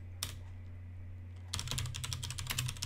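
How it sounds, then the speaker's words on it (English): Typing code on a computer keyboard, a brief tap near the start, then a quick run of close, crisp keystrokes over a low background hum. "So I'm going to type in"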